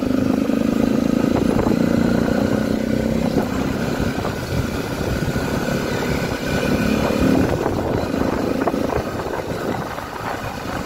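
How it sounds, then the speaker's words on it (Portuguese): A 2020 Honda XRE motorcycle rides through the streets at night, its engine droning loud and close throughout with slight surges in pitch and a rattling clatter, and no talking. "A moto dá uns coices nervosos."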